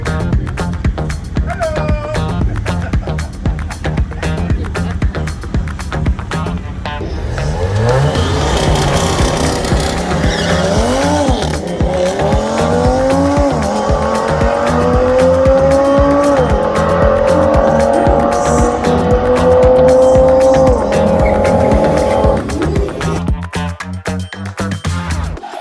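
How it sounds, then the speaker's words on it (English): A VW Alltrack with a stock block and Tunezilla tune launches down a drag strip, engine roaring loud and close, revs climbing through gear changes with a rising whine before cutting off sharply. "He's been drag racing this vehicle for a while now"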